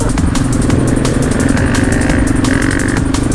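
A supermoto motorcycle engine runs steadily close up with a loud, throbbing, slightly rough idle and a gentle rise in pitch, alone and without voices.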